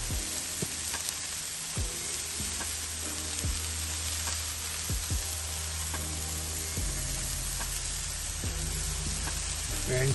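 Cheeseburger patties seasoned with salt and pepper sizzle steadily on a Blackstone flat-top griddle, a loud continuous frying hiss with occasional soft scrapes and taps, no voices.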